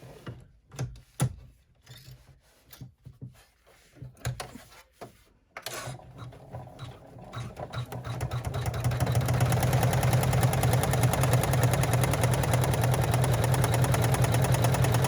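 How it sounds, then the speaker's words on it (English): A machine top stitches a slim cell bag in an embroidery hoop, starting with scattered clicks and taps that build into a steady, loud mechanical whirring hum for the second half, with no talking. "And then we're going to go ahead and top stitch."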